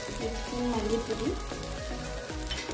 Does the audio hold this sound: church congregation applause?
no